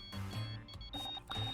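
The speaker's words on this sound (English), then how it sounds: "I think that's my phone." A phone rings in the video game Murder by Numbers, giving a short patterned electronic chime that repeats in quick bursts over a low synthetic hum.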